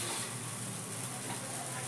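Dosa batter spread on a hot griddle gives off an even, fairly loud hiss that holds steady throughout with no breaks.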